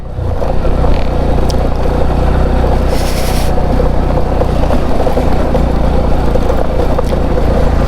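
A motorcycle is ridden by a standing rider over a gravel-strewn off-road mountain track between Marpha and Muktinath in Nepal, producing a loud, unbroken engine drone with heavy wind rumble close to the microphone.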